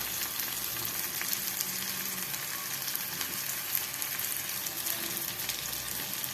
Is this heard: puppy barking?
no